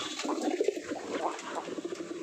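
Pigeons coo softly and repeatedly nearby, their low rolling calls overlapping in a steady murmur.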